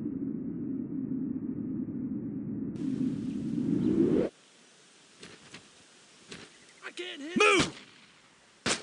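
Gunfire in the World War II video game Brothers In Arms: Road To Hill 30: a sustained roar of shooting for about four seconds, then scattered sharp shots and bursts, with a shouted command among them.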